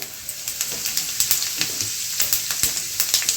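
Whole cumin seeds frying in hot oil crackle with a steady run of sharp, close pops over a soft sizzling hiss.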